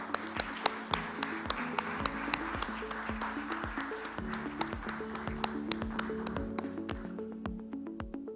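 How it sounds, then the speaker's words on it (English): Audience applause at a post-budget stakeholder interaction in Mumbai, a steady patter of many hands clapping with sharp individual claps standing out, sustained throughout at moderate distance. "A round of applause, please."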